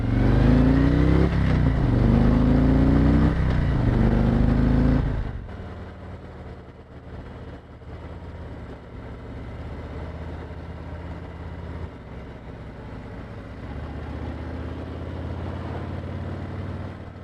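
Motorcycle engine running at speed during a ride, loud and steady with rising harmonic revs for about five seconds, then dropping to a lower, rougher rumble with wind noise.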